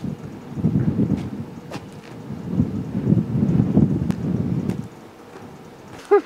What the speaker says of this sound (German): es ist windig und es regnet